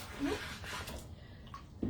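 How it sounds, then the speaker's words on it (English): Chalk transfers are dumped into water, making a brief close slosh and splash with a soft knock at the end. "Just dump these in the water, which is all right."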